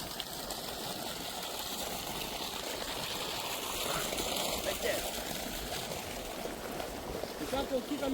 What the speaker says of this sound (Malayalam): വെള്ളം ഇതൊക്കെ ചുള്ളിയാർ ഡാമിൽ നിന്ന് വരുന്ന വെള്ളമാണ്.